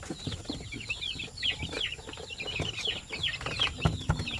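A young Shamo Aseel chicken about one month old clucks and chirps repeatedly at close range, soft and quick, with small rustles and faint wing movement and no talking.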